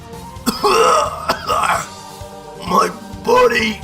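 An animated warrior, Vegito, coughs up blood on his knees, giving strained, throaty coughs between close, loud bursts of speech.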